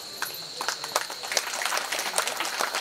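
An audience at a religious kirtan gathering claps in a brisk scatter of sharp hand claps, irregular and overlapping, fairly close and without talk.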